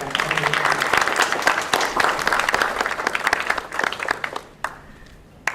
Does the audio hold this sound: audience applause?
yes